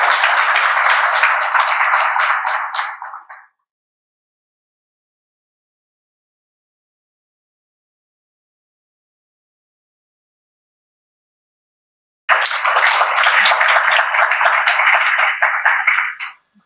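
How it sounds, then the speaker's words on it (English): Two bursts of audience applause at an academic symposium, each a dense, loud wash of clapping lasting a few seconds, separated by a long stretch of silence. "Everybody, round of applause."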